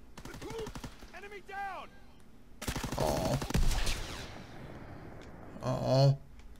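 Gunfire in a Search and Destroy match of a first-person shooter, with a dense burst of shots around the middle and another short burst near the end, mixed with game speech and effects.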